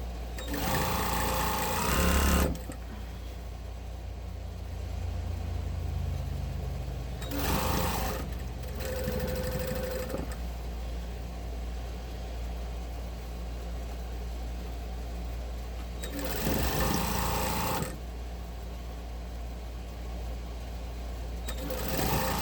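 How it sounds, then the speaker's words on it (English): A sewing machine runs in steady bursts while stitching a canvas tote bag and its lining together through fusible fleece, the motor whirring loudly for several seconds at a time between short pauses. "we're sewing through the fusible fleece"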